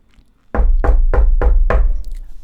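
Five heavy knocks on a door land in a steady, evenly spaced rhythm, loud and close with a deep thudding body, with no voices around them.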